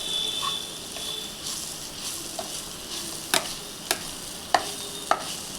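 Masala seasoned with salt and chilli powder fries steadily in a pan, a soft continuous sizzle broken by several sharp scraping clicks as a spoon stirs it, close and alone with no voices.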